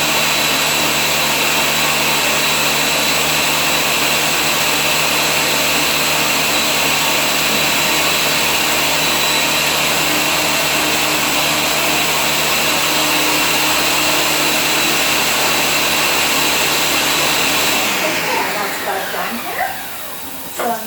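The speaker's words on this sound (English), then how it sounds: "then we will blend it out a little bit more" A blender whirs steadily and loudly as it purees roasted garlic hummus, a continuous close motor drone that holds for most of the stretch before winding down near the end.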